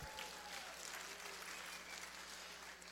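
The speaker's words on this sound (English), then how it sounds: "give yourselves a round of applause" Faint, distant applause from a summit audience forms a steady wash of clapping that lasts the whole stretch, with no clear voices above it.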